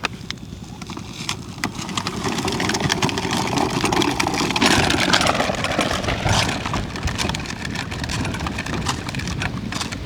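A remote control Swaraj 855 toy tractor runs continuously with a buzzing, rattling motor and clattering movement, loud and close throughout with no pause.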